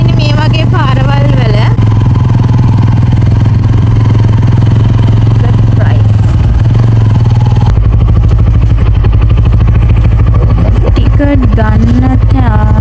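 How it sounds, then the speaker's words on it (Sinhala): A motorbike runs along a country road in Sri Lanka toward Wawathanna. Its loud engine drones steadily and close, with rattling and wind, shifting in tone partway through. "ඔන්න ඉතින් අපි දැන් මේ බයික් එකේ තාම යන ගමන් ඉන්නේ."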